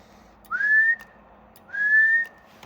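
Someone whistles into the microphone of an Icom 706 transceiver keyed into a dummy load: two separate rising, then steady whistle tones, each about half a second long, clear and close over a quiet hum.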